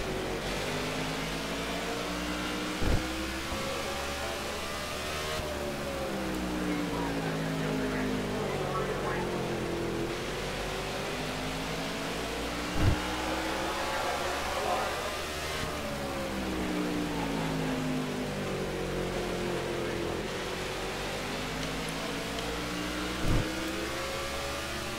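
Stock car engines racing in the video game NASCAR '15 at the STP 500, a continuous droning roar whose pitch rises and falls in long sweeps as the cars accelerate and lift through each lap, with brief thumps recurring.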